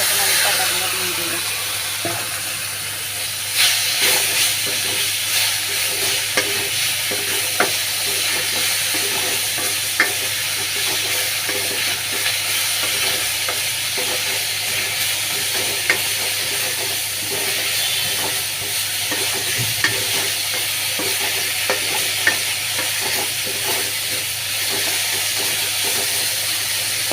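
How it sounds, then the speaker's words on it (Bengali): Leaves fry and are stirred in a pan for pabda fish curry, a constant hissing sizzle broken by occasional light scrapes and taps of the spoon, heard close throughout. "এখন আমি পাতাগুলো দিয়ে দিব।"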